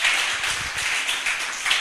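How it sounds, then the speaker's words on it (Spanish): A church congregation applauds during a Spanish-language sermon, a short burst of fairly soft, diffuse clapping heard from a distance in a reverberant hall. "den un fuerte aplauso a la gloria de Cristo"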